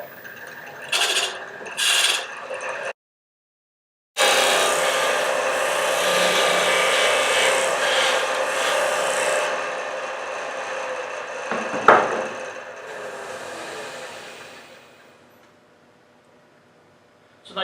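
A wood lathe turns a tenon on an end-grain hollow vessel blank, giving a steady grinding, whirring drone that stops briefly, resumes strong, carries a sharp knock near the end, then fades to a low hum.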